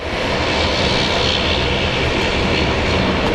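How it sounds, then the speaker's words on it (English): Aircraft engines roar at Brisbane International Airport on a morning with two active runways, a loud, steady, broadband rumble that holds constant throughout without talk. "Look at all the sights and sounds of Brisbane Airport."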